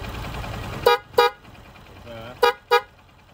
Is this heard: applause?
no